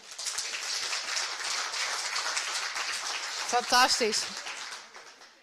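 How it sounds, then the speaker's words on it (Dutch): Audience applause for a participant at a Frisian dictation contest in Noordoost-Fryslân, steady dense clapping throughout, with a brief spoken word from a voice partway through. "Ik denk even een applaus voor Hendrik."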